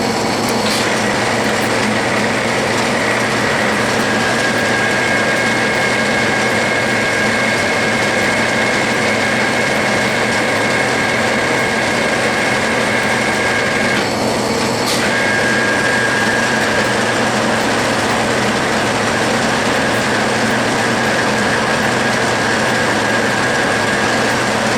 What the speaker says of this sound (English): Notice that you should always chamfer your work prior to starting the knurling operation.